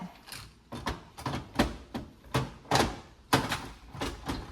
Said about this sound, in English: make sure our drawer goes in and out